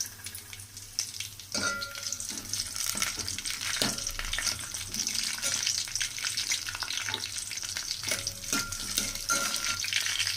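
Chopped green chillies fry in a pan of oil with a steady, close sizzle, broken by the scrape and clink of stirring at irregular intervals.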